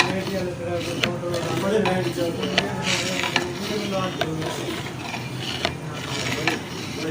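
Dhaba-style moong dal being stirred in a pot over heat, with repeated scraping, clicking strokes at a brisk, uneven rhythm over a constant background sizzle, close and fairly loud.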